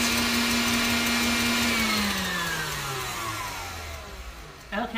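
An electric mixer whips chocolate mousse with a steady motor whine that drops in pitch as it slows near the end, fairly close and moderately loud.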